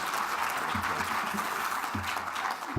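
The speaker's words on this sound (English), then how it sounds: "please give Anna another round of applause" Audience applause at the 2018 PROSE award ceremony, a steady dense wash of many hands clapping throughout, with a faint voice or two underneath.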